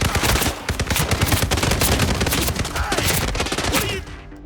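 Rapid, dense bursts of automatic gunfire from a firefight in the video game Hitman, loud and close, continuous for about four seconds before cutting off.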